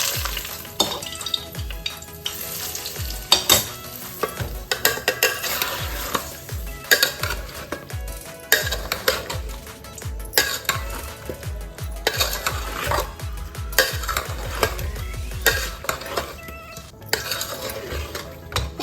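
Hot oil is poured in and mixed through a veg dum biryani, with loud, rhythmic stirring and scraping of a spoon against the vessel and metallic clanks, close by and without speech.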